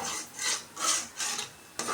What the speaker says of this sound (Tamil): தண்ணி ஊற்றி கரண்டி வச்சு நல்லா மிக்ஸ் பண்ணி விட்டுக்கோங்க.